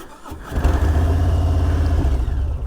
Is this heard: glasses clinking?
no